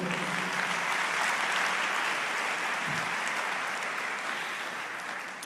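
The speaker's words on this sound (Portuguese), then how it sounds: "Você pode aplaudir o Senhor?" A church congregation applauds in a sustained, dense roar of clapping that runs the whole time and tapers slightly toward the end, with no clear talk.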